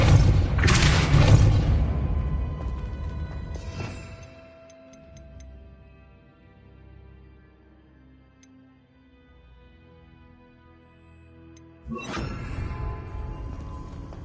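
Casting the Depulso spell in Hogwarts Legacy makes a loud whooshing burst with a deep thump, then a sharp hit, a long quiet stretch with faint ticking, and a second strong burst near the end.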